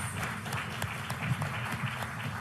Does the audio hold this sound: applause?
yes